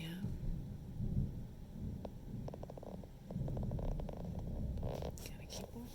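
Thunder from a summer storm in Tennessee rolls as a deep, sustained low rumble, with scattered crackles and taps over it and no clear speech.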